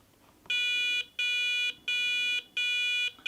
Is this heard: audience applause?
no